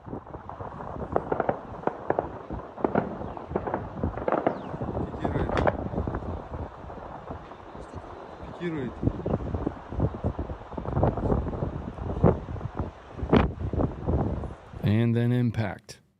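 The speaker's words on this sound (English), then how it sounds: "what you're hearing is like small arms, like AK fire in the background" Small arms AK rifle fire in combat footage, sharp irregular cracks and bursts heard at a distance under heavy wind buffeting the microphone, with a closer loud burst near the end.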